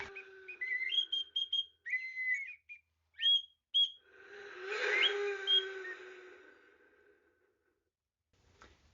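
Clear, thin bird whistles in short repeated phrases, some sliding up or down, followed by a softer, breathier passage that fades into quiet.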